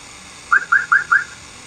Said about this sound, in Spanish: Es la alarma de un auto.